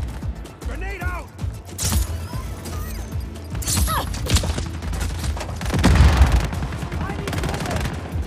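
Gunfire and a grenade blast in Just Cause 4 gameplay, with loud rapid bursts of shots, clattering mechanisms and a heavy boom near the end, under voices.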